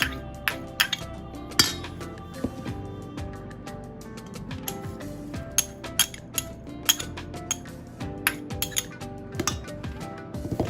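Mashed potato kabab mixture being mixed in a bowl, with repeated sharp clinks of a spoon against the dish in an irregular rhythm over soft squelching, close and fairly quiet.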